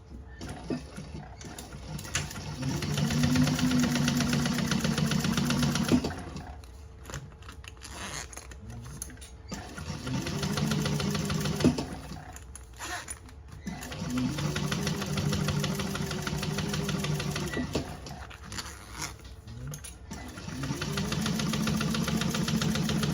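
A sewing machine top stitches a tote bag seam in several bursts of steady whirring, separated by short pauses with handling noises.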